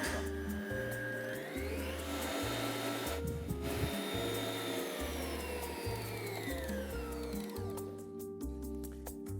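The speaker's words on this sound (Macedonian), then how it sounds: "јајцата, шекерот и ванилиниот шекер ќе се изматат до густа пена" An electric mixer whips eggs, sugar and vanilla sugar into a thick foam, a steady whirring motor hum with cyclic pulsing beneath it and a brief change in pitch midway, close and continuous with no talking.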